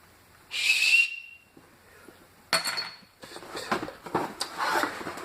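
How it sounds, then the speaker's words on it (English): A small toy whistle gives one short, shrill tweet, then silence, followed by light clinks and rattles of small objects being handled nearby. "toy whistle"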